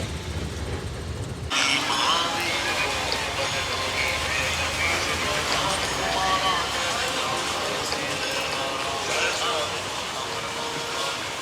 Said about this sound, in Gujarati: મસ્ત મજાનો ધીમો ધીમો વરસાદ આવે